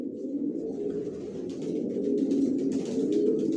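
Racing pigeons in a loft, a continuous layered cooing from several birds close by, soft and steady with faint rustling above it.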